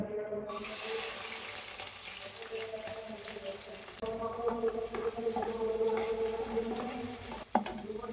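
Onion sizzles in a pan for a noodle dish while a utensil stirs it, a steady frying hiss with scraping strokes that grows busier halfway through, close and continuous, with no talk.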